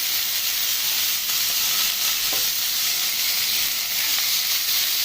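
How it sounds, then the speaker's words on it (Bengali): Small chicken gizzard pieces sizzle in a pan with onions while being stirred, a constant close frying hiss with a few scraping touches from the utensil. "এটাকে ভালো করে নাড়াচাড়া করবো, পেঁয়াজটার সাথে মিক্স করে নেবো।"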